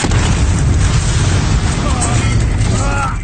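Missile explosions in a sci-fi action movie battle scene, a dense, continuous roar of blasts and rumbling debris, loud and close throughout, with shouted voices faintly mixed in near the end.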